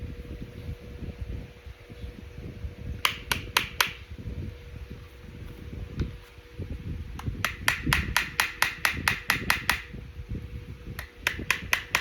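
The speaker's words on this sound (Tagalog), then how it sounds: "Kuha tag martilyo, di makaya." A hammer taps a magwell onto a Canik TP9SF Elite pistol in quick bursts of sharp metallic knocks, three or four at first, then a longer rapid run, close and crisp over a noisy outdoor background.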